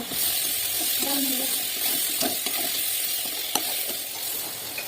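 Fried potatoes, ridge gourd and pointed gourd stirred into cooking spices sizzle loudly and steadily in a pan, with a continuous hiss and a few light scraping clicks.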